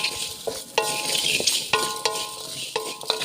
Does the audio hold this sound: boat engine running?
no